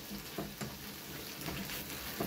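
Seaweed being stir-fried in a pot for miyeokguk, a soft continuous sizzle with a few faint scrapes from a spatula or ladle spread through it.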